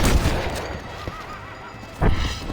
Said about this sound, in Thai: ยิงได้เลยนะครับ ตามจำนวนกระสุนที่เรามี